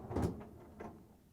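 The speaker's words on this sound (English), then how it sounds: "To get to the part, we need to open the freezer door." A GE freezer door is pulled open with a soft, muffled thump and a fainter knock just after, quiet and close in a still room.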